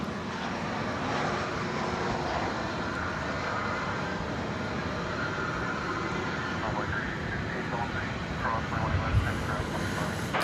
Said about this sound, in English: As we see that plane go out